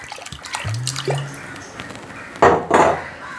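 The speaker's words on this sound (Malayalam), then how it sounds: "കുറച്ചൊരു വെള്ളം കൂടി ഒഴിച്ചു കൊടുക്കണേ." Water poured from a cooker into a clay pot of curry made with jackfruit seeds, mango and drumstick, giving a short splashing pour near the end after a few soft kitchen clinks.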